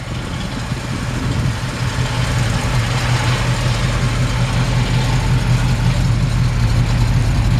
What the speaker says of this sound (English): I love the way the engine sounds. I think it sounds really good.